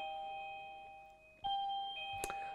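A doorbell chimes in a quiet room, a faint ringing tone followed by a brighter second strike that sustains briefly, with a small clatter at the end, heard alone and fairly soft.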